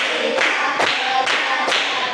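Group hand clapping during a class clapping game, four sharp claps in a steady rhythm, loud and close, with no talk over them.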